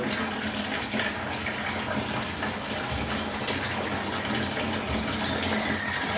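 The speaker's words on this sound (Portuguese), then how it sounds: "aqui nós estamos fazendo a transferência do nosso mosto para o balde fermentador" Homebrewed IPA wort gushes steadily into a fermenter bucket, a continuous close splashing pour.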